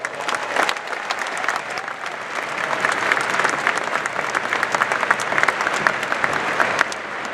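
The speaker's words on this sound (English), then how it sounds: "So let's give them a round of applause." Sustained audience applause fills a Hall of Fame ceremony for a baseball great, a dense wash of many hands clapping that swells slightly and holds steady throughout, with faint crowd noise mixed in.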